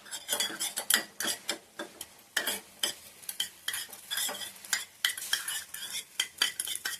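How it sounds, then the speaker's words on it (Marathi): Fish liver fries in a pan with a soft sizzle under frequent close clinks and scrapes of a utensil stirring against the pan, irregular and busy. "आता आपण ही काळजा फ्राय करूया."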